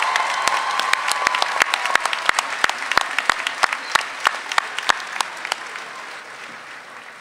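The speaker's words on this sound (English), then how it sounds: "Let's have one more round of applause for our master's degree graduates." Applause from a large commencement crowd honoring master's degree graduates, dense clapping with sharp individual claps standing out, sustained throughout and tapering slightly near the end.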